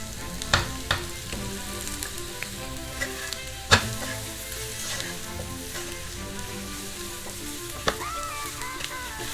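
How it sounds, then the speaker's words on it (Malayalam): Fried chicken is stirred into a hot pan with onions and curry leaves for Bellary chicken, giving a steady loud sizzle with sharp spoon scrapes and clacks at irregular moments. "ഇനി ഇതിലേക്ക് നമ്മൾ ഫ്രൈ ചെയ്ത് വെച്ച ചിക്കൻ കൂടി ചേർത്ത് നന്നായിട്ടൊന്ന് മിക്സ് ചെയ്യുക"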